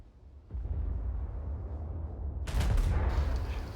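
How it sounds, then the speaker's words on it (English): Warship guns fire in the World of Warships naval game, a German Nassau battleship's salvo bursting out as a loud boom after a low rumbling engine hum, with no talk. "First shots fired in the Nassau."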